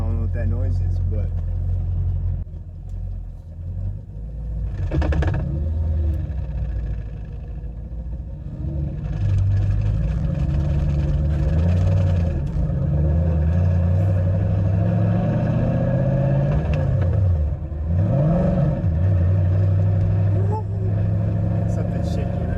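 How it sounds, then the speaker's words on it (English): Stick-shift Mercedes SL500 running and being driven, with a loud steady low engine rumble and a harsh vibration as something shakes badly; the engine note rises and falls a few times, and talk is heard over it. "something shaking really bad. I have no idea what it is."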